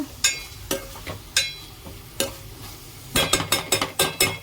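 Vegetables for veg biryani are stirred in a pan over a low flame, with a soft sizzle beneath repeated close scraping strokes of a spoon that quicken into a rapid burst near the end.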